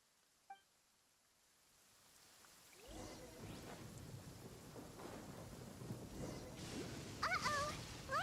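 A thunderstorm rolls in during Genshin Impact's Inazuma quest: after a quiet start with a faint chime, thunder cracks and rumbles loudly over heavy rain, with short musical tones near the end.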